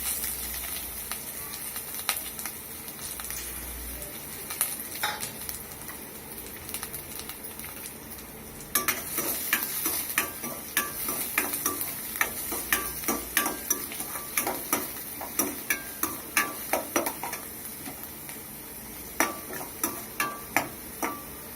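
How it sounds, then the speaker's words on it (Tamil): Onions frying in oil with green chilies and curry leaves for Tamil thakkali thokku, a steady sizzle at first, then a run of sharp spoon-against-pan clicks and scrapes that grow louder and more rhythmic toward the end. "இந்த மாதிரி சேர்த்துட்டு வெங்காயத்தை சேர்த்துக்கலாம்."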